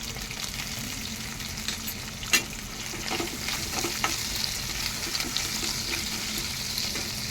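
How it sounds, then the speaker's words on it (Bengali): Taro (kochu) being stirred and fried in a pan gives a steady close sizzle, broken by scraping stir strokes and a sharper clack around the middle, with no voices. "এভাবে কতক্ষণ আমি এই কচুগুলো নাড়াচাড়া করব।"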